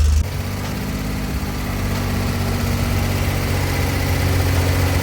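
Alpine car engine running, a heavy low rumble that holds steady then swells slightly as the throttle is raised, loud and close with no talk over it.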